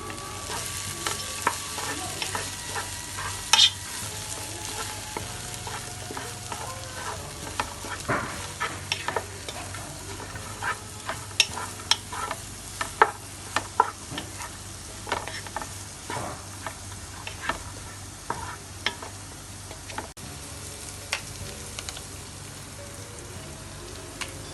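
Celery, carrots and parsley fry in a pan with a soft, steady sizzle while a utensil stirs them, scattered clicks and scrapes over the low frying hiss and no talking.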